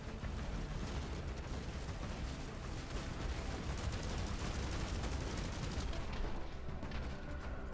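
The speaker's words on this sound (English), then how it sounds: "Yeah, missiles now hit quite reliably, which is nice." Rapid missile launches and impacts in the mech tactics game Phantom Brigade form a dense, continuous roar of explosive bursts and crackling blasts that stays loud and steady throughout.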